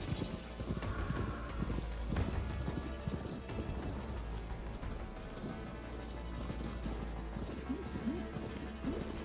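Horse hooves clip-clop in a quick galloping rhythm in the video game Horizon Forbidden West, against a steady low hum, with a brief whinny and some muffled sounds mixed in.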